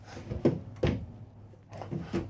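Dovetail wooden drawers inside a Renegade Explorer 40ERB Super C motorhome slide and shut with several quick close thuds and soft rubbing sounds, close up and without talk.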